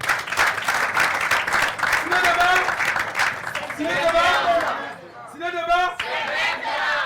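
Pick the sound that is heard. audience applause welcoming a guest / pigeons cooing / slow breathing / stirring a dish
audience applause welcoming a guest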